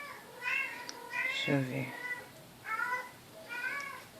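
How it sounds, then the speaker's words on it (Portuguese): A cat meows several times in short, rising calls, fairly close, with a person speaking briefly in between. "O gatinho."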